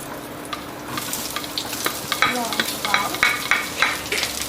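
Adobo is stirred in a sizzling pan, with rhythmic scraping and clattering of a spoon against the metal over a steady frying hiss, growing more vigorous toward the end.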